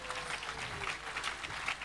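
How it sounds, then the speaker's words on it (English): Church congregation clapping along during a worship service, a steady, fairly soft patter of many hands heard from some distance across the room. "Clap for Jesus."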